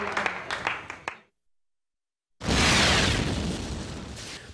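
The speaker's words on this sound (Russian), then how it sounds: "Какой взрыв! А вот еще один." A sudden loud blast erupts after a short silence, a film-set explosion, a roaring burst that slowly fades. Earlier, a few sharp pops and crackles.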